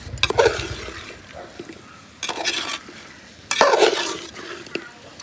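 A spoon scrapes and stirs chicken through masala in a pot for a chicken curry, in three separate bursts of clattering and scraping. Each burst is followed by a quiet pause with a faint sizzle underneath.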